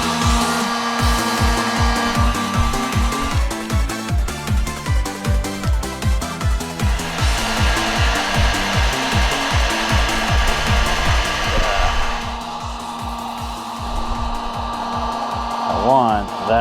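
A heat gun blows hot air over tinted car window film with a loud, steady whirring roar, close and continuous, its tone shifting slightly partway through with no talk.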